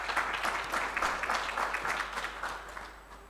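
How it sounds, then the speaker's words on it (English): An audience at a university research chair launch breaks into applause, dense steady clapping at moderate loudness that gradually thins and fades toward the end. "I think that definitely deserves a round of applause"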